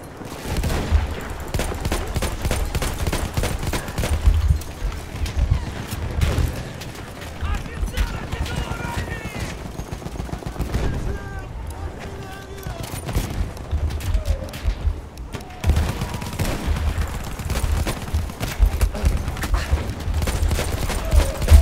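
Automatic gunfire from a video game rattles almost constantly in bursts, loud and dense, with someone talking in Russian over much of it.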